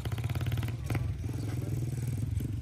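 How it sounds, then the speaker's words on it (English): A motorbike engine buzzes loudly close by with a steady throbbing rhythm, a brief clatter partway through. "One more motorbike."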